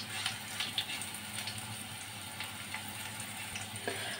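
Asafoetida sizzles in hot oil in a pan as it is stirred for a green onion leaf sabzi. A close, steady frying hiss carries light ticking scrapes from the stirring.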